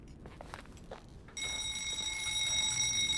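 A phone rings inside the video game The Suicide of Rachel Foster, a steady bright electronic bell tone that cuts in suddenly after a quiet moment of faint background noise and keeps going.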